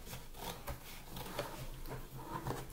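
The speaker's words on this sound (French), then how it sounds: "Pour cela, tu prends tes ciseaux" Scissors rasp through stiff material in a series of close, scratchy snips and rubs, fairly quiet with no talking.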